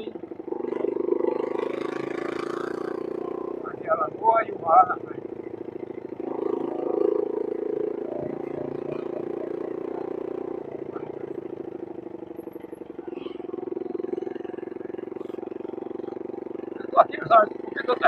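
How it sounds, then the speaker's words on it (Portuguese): A motorcycle with a holed exhaust pipe idles and putters with a rough, rattly mid-range drone, while someone talks over it almost constantly and a few sharp knocks break through. "Estou aqui na moto, o cano de escape está furado."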